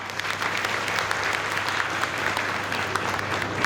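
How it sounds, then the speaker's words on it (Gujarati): Audience applause at a community gathering, a dense sustained clapping from a large crowd, steady and even throughout. "છૂટક નહીં જથ્થાબંધ તાળીઓના નાદથી વધાવો"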